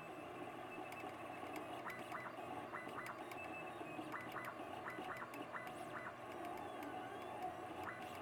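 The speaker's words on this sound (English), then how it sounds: "It sounds like a bearing. There's a dry spot in one of the bearings or something." A Monoprice Maker Ultimate 3D printer with a dry spot in a bearing runs quietly, giving off faint, irregular small clicks over a steady low mechanical hum.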